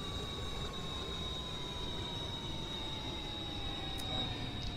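A Regiopanter battery electric train brakes in a train simulator game, producing a steady high-pitched brake whine and a dropping tone over continuous rolling rumble, with no speech.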